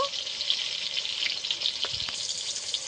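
Tomato frying in a pan with ginger paste, turmeric, chili powder and coriander powder gives a steady, close, dense sizzle that holds evenly throughout, with faint pops and no voices.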